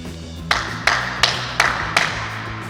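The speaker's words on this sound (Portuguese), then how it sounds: "O bom de se aplaudir aqui dentro é que tem um eco tão grande, cara, que todo mundo aplaude de volta" Five sharp hand claps at an even pace in a large echoing room, each one ringing out with a long reverberant tail, with no voices.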